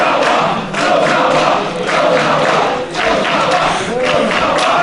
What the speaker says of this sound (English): As the crowd here in Atlanta again firmly behind Tozawa